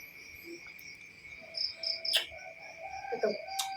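A steady cricket trill hums through a still village night, continuous and faint, while brief bird chirps and a couple of sharp clicks break in near the middle and end.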